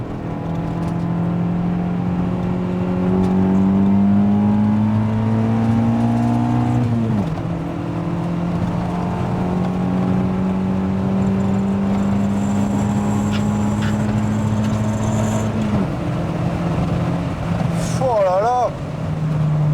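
Honda Civic EG4 engine pulling hard near 5,000 rpm with VTEC engaged, a loud steady rising drone heard from inside the car that drops briefly at each gear change before climbing again, with people talking over it.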